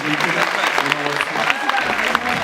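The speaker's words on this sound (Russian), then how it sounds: "Вы поаплодировали зрителю теперь, пожалуйста, они вам аплодируют." A theatre audience at a comedy competition applauds the performers, a steady dense wash of many hands clapping that fills the room without pause, with a faint voice underneath.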